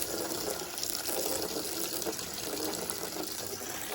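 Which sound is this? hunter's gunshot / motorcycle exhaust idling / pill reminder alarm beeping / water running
water running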